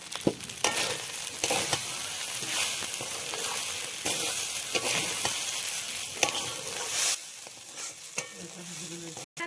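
Rice stir-fried with spices in a pan, a continuous loud sizzle with repeated scraping strokes of the spatula, ending in a few clinks as stirring stops, no talking.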